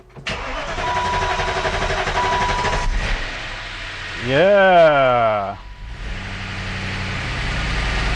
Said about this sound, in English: the valve train's super noisy there